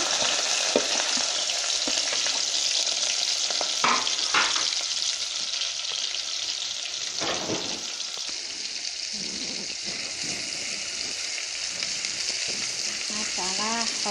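Chopped onions frying in hot oil in a pot, a steady loud sizzle running throughout with occasional stirring scrapes and bursts of spattering.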